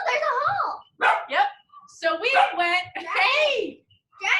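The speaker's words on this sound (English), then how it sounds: "Dragon's barking." A dog barks several times in short, sharp bursts, close by, mixed in with excited children's voices talking over it.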